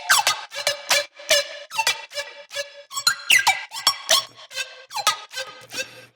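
A high-pitched synth lead with Shimmer reverb plays a choppy run of short bright notes, squeaky and glassy with sparkling upper overtones, about a dozen stabs in an uneven rhythm, alone and fairly loud.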